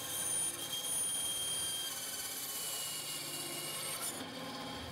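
A PVC pipe is cut in half, a steady low rasping rub that runs through the whole stretch at a fairly faint level with no talk.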